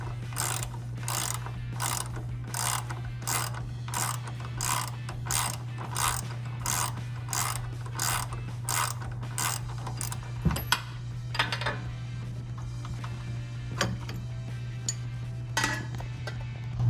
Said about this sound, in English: You're going to put your 20mm wrench at the end of this and your socket,